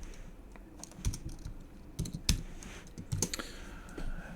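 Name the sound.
typing code on a computer keyboard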